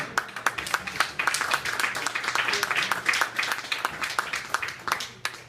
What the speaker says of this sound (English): let's take a round of applause for Mr. Nils.